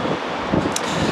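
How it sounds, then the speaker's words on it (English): Wind buffets the microphone on a Glasgow street, a steady broadband roar that fills the clip with slight gusty swells and no talk. "It's very windy"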